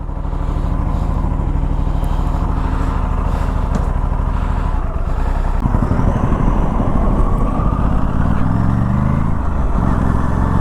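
Aprilia RS 457 motorcycle on its stock exhaust during a winter night ride on a state highway, a loud continuous engine drone with rising revs as it accelerates, mixed with wind and road rush.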